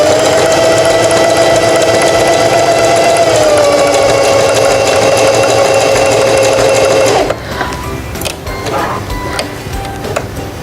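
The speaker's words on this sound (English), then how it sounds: "sew until you reach the bottom bar tack" A Singer 4423 sewing machine runs steadily at high speed while stitching a buttonhole, a loud continuous whirring drone that stops abruptly near the end, followed by a few faint mechanical clicks.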